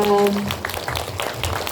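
Scattered applause from an audience, a crowd clapping steadily for a couple of seconds after a brief tone fades.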